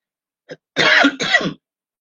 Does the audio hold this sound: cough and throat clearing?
yes